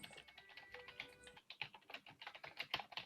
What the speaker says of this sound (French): Apparemment, Fred viole son clavier.